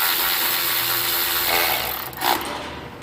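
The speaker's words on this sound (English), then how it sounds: "Still loving this little 1/4 inch Milwaukee ratchet." A small Milwaukee 1/4 inch powered ratchet spins a fastener while replacing engine coils, a loud close buzzing whir that drops off briefly before a short final burst.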